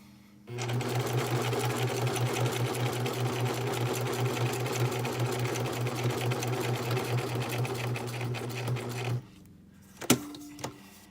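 A sewing machine runs a continuous zigzag stitch around the edge of a piece of fabric, humming steadily at close range for about nine seconds before stopping, followed by a couple of small clicks.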